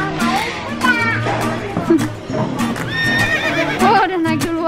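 Horse at a safari park whinnying loudly and repeatedly while hooves clop nearby, with children's voices and chatter mixed in close to the microphone.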